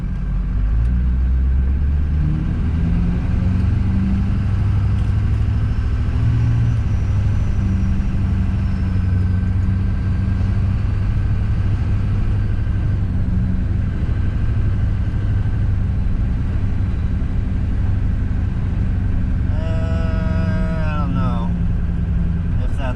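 A Duramax diesel pickup truck drives with a steady, deep engine rumble and road drone throughout, with a voice briefly heard near the end.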